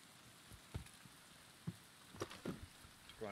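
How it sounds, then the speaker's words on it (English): Steady rain hissing over surfaces in the game Escape From Tarkov, a constant wash of patter broken by a few louder thumps and clicks, with no talking. "It's raining all the time."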